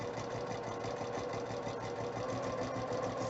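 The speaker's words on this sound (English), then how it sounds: "But I just sew down the side as usual" A sewing machine sewing down the side of vinyl layered with fabric and paper hums steadily throughout, a continuous close mechanical drone with a fast even needle rhythm and no pauses.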